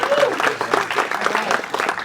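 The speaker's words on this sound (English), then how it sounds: "Big round of applause for cohort 14." Audience applause for a startup accelerator cohort at a demo day event, a short burst of dense clapping mixed with crowd murmur and a brief voice near the start.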